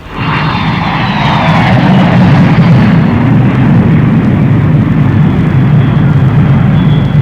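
An airplane arriving at an airport gives a loud, continuous roaring engine rumble with a faint high whine that swells and holds steady throughout, with no voices.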